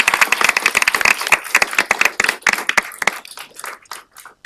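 A room at a county commissioners' board meeting breaks into brisk, crisp clapping for two people, strong at first and then thinning into scattered claps that fade out.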